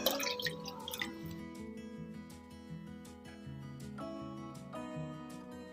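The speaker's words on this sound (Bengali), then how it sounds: "আমি এক বাটি গরম জল দিয়ে দিচ্ছি" Hot water poured into a simmering bottle gourd kofta curry makes a quiet, continuous trickle with light dripping and splashing, heard close and faint with no voices.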